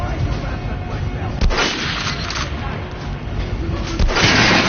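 Headshot gunfire in the video game Metro: a few sharp, loud shot bursts over a constant dense background, with a strong hit near the start and another near the end.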